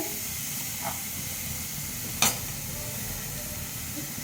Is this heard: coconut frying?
yes